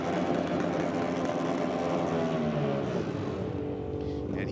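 A Ducati motorcycle makes a drag racing run, its engine a loud, sustained roar that holds steady before the pitch shifts slightly and eases off toward the end.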